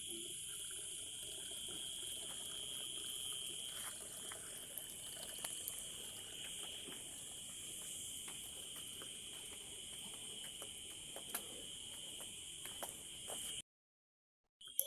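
Water runs steadily from a tap or spout while water is being fetched at night, a faint continuous trickle joined by scattered small clinks and taps, with a constant insect drone in the background before it cuts off near the end.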